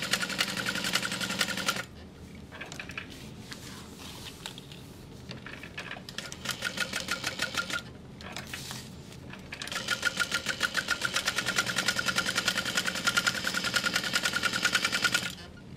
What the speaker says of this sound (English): we're gonna sew around the outermost edge of this overlay